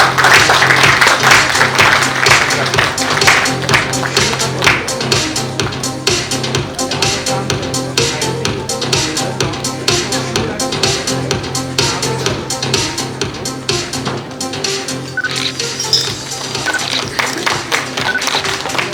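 A banquet-hall audience at a leadership awards ceremony claps for the winners, a long, dense patter of hands that stays loud throughout and thins slightly toward the end.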